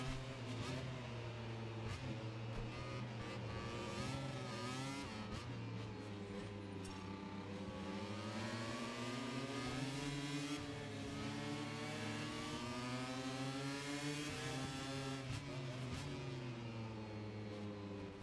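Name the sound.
MotoGP motorcycle engines at race start, from video game MotoGP 25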